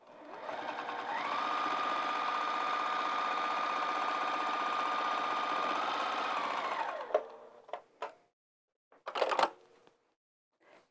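A sewing machine runs continuously while top stitching across a fabric bag, a steady whirring hum for several seconds that winds down, followed by a few short clicks and handling noises.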